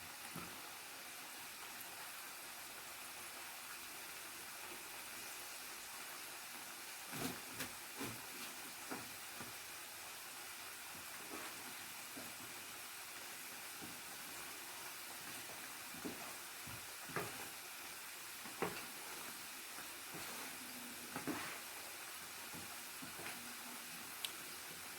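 Potato strips deep-frying for homemade crispy French fries give a steady, quiet hiss of bubbling oil, broken by occasional faint pops and clicks.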